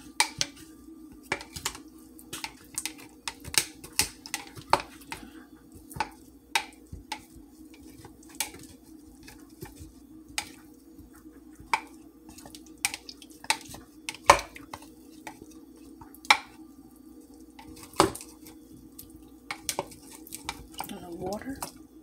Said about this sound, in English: I'm gonna stir it around and squish it around.